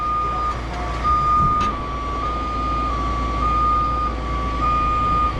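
A truck backs up on an off-road recovery job, its steady reversing beeper pulsing in an even rhythm over a low idling engine rumble, close and fairly loud.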